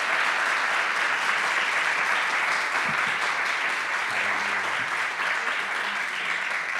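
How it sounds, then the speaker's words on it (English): Audience at a candidate forum giving a sustained round of applause, an even wash of clapping from a seated crowd in a hall, steady from start to finish with a few faint voices underneath. "I would ask you just for a round of applause because they are here."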